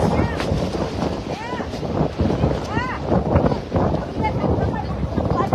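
Strong wind gusting in Oroquieta City, roaring steadily and buffeting the microphone throughout, with faint voices scattered in the background.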